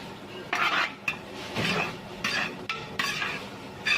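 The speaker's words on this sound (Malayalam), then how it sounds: "അതുകൊണ്ട് പൊറോട്ട നന്നായി നമ്മൾ വഴറ്റിയെടുക്കണം" A metal spatula scrapes and clanks in a pan as chicken kothu parotta is stir-fried, with shredded parotta tossed to soak up oil: irregular bursts of stirring and clinking with a faint sizzle beneath, no voices.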